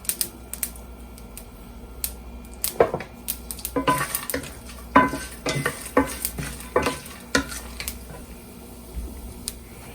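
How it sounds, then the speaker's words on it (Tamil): Urad dal and cashew nuts fry in hot oil for a South Indian variety rice. Low sizzling runs under irregular clattering strokes of a spoon stirring in the pan, close and clear, with no talking. "அப்புறம் நம்ம எடுத்து வச்சுருக்கோம்ல உளுந்து, முந்திரி பருப்பு, அதையும் ஒரு சைடில் போட்டுருங்க. ஸோ எல்லாமே வறுபடட்டும்."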